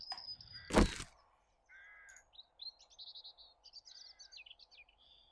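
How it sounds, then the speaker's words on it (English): Bird calls in the survival game 7 Days to Die: a loud harsh caw up front, then a series of shorter chirping calls and squawks following in quick bursts, no talking. "God damn you, bird."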